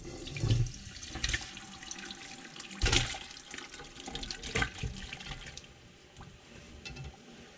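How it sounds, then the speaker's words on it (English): Water runs from a tap into a pot for a Lao chicken curry with noodles, a close splashing pour with a few louder gushes, then tapering off at the end. "Then I'm gonna add 2 more cans of water."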